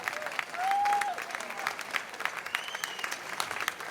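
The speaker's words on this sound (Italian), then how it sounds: "Senti che bell'applauso!" A crowd at an outdoor summer evening concert in a town square in Jesolo claps warmly and steadily, with a brief whistle or cheer rising above the applause.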